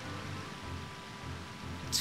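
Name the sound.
waterfall in Zelda: Ocarina of Time video game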